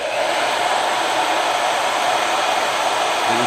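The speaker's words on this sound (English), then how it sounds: "This is a high quality, professional blow dryer." A professional blow dryer runs on its high cool setting, a loud, close, continuous rushing airflow roar that stays steady throughout with no voices.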